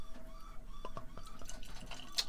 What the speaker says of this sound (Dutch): Laat hem inschenken.